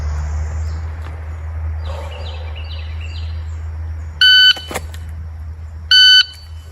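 Two loud electronic beeps from a shot par timer set to 1.7 seconds during dry-fire practice, one a little past the midpoint and another near the end, over a steady low hum with faint chirps in the background.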